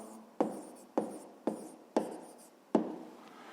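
An answer to a 5th-grade maths exercise written by hand, with five quick, close pen strokes on paper, each a short scratch with a soft tail, evenly spaced.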